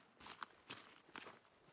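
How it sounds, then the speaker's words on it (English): Bunny footsteps in the survival game The Forest: a few soft, separated thuds spaced irregularly across a quiet background. "I think the bunnies just have really loud footsteps"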